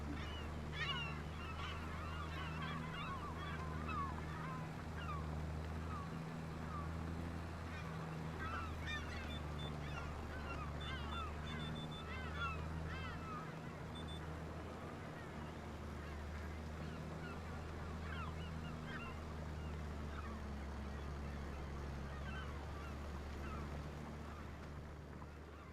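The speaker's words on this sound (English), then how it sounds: "Loving the birds." Geese in the farming video game Farming Simulator 25 honk repeatedly at low volume over a steady low engine-like drone, the calls scattered and irregular throughout.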